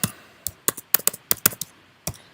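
Typing on a computer keyboard, sharp separate key clicks in an uneven rhythm, about a dozen strokes spaced apart, close and clear with no talk.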